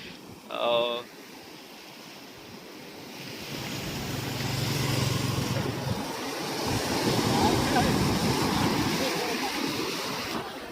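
Ocean surf rolling onto a beach, a steady broad wash of breaking waves that swells and fades in long surges, with wind buffeting the microphone and a brief voice near the start.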